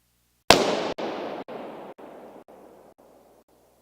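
A single balloon pops sharply inside an ancient cathedral, followed by a long reverberant tail. The tail decays in several distinct echoing steps over about three seconds.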